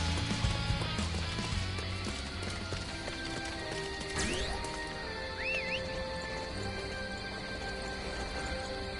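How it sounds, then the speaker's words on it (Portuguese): Horse hooves clip-clopping at a gallop in Dynasty Warriors 9, a steady rhythmic beat under background game music with a brief whinny-like call midway. "Aí tem o cavalo. Dá pra gente chamar também."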